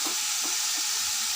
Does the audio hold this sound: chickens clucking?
no